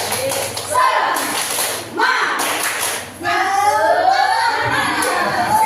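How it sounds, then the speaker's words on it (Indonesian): A school group doing the tepuk semangat spirit clap during a positive-culture teacher session, rhythmic clapping and thumping with shouting voices, loud and close in bursts. "Tepuk semangat."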